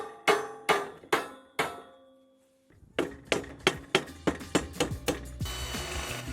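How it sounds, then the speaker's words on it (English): A rubber mallet taps metal table legs into place under a tabletop, a series of sharp, ringing knocks, first a few spaced strikes, then a quicker run of blows, close and clear with no talking. "Make sure you have a rubber mallet."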